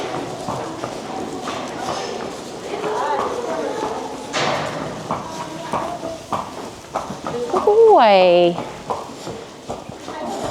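Hooves clop steadily on the ground as a large Thoroughbred horse walks, with people talking nearby and a horse whinnying loudly toward the end.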